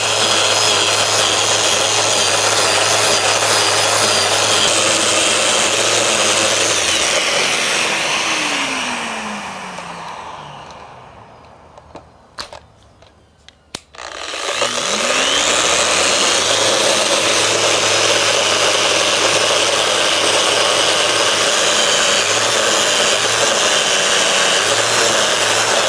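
A power tool whines loudly as it shapes the corner of a live edge wood table, spins down to near silence with a few knocks, then spins back up and grinds steadily on.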